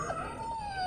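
An injured dog with a broken leg whimpering: a single brief, faint, high whine that slides slowly downward and stands alone.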